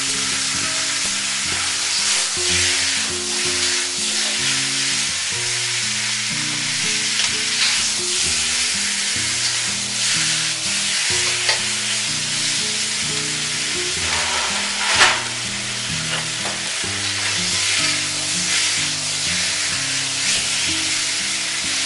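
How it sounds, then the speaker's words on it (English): A ribeye steak sears in a very hot wok for a stir-fry, giving a loud, constant sizzle with crackles and a few scraping stirs, and light background music playing underneath. "You're going to sear your steak."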